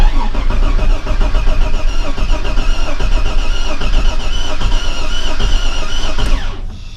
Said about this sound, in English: So we'll just crank it a few times, then we'll turn it off,